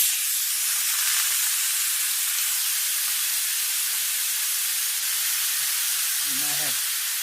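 Beef sizzling in a hot skillet for fajitas, a loud, steady broadband hiss and crackle running throughout, with a brief voice near the end.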